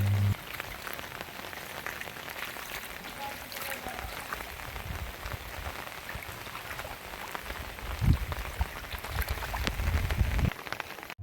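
Steady rain pours down over village fields, a dense, even patter with occasional low rumbles and gusts rising near the end.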